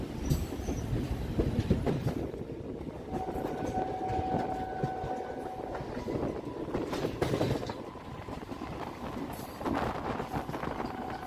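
A Katwa–Ahmadpur MEMU train running on the rails, with a steady rumble of wheels and carriage, rhythmic clatter and a brief metallic squeal, sounding close and continuous throughout.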